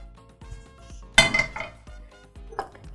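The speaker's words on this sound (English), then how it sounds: "Frying pan." A metal frying pan and other kitchen utensils clink and clatter, with a sharp bright clang midway and a smaller knock near the end among lighter taps.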